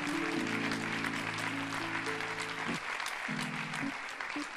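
A congregation at a church service in Mulhouse claps in a dense, sustained wash of applause throughout, with sustained musical tones underneath.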